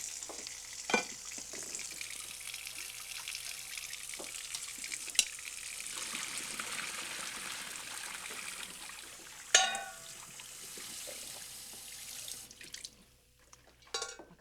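Cooked Brussels sprouts being drained of their cooking water in a home kitchen, a steady rushing pour and splash running for about twelve seconds, with a few clanks of the pot and colander mixed in.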